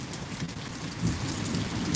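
Steady rain pours during a lightning storm at night, with a low rumbling swell of nearby thunder building about halfway through under the constant patter.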